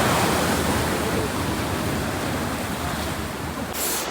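Ocean waves at the seashore in Digha make a steady broad roar of surf throughout, loud and continuous with wind mixed in and no clear break between waves.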